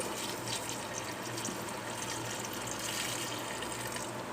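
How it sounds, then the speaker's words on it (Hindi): Water pours steadily into a cooking pot holding beef with onion, tomato, ginger, garlic and green chillies, a continuous close splashing rush with no talk. "अब इसमें हम डालेंगे पानी।"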